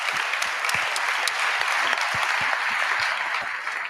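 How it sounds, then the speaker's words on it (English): Sustained applause from a large audience at the WordCamp EU 2025 conference, honoring the event's organizers; dense, steady clapping that fills the hall throughout, with no voices over it. "Big round of applause to people who organized this event."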